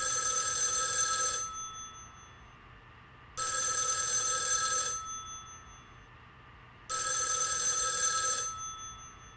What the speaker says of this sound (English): Suddenly the phone from the next room rings.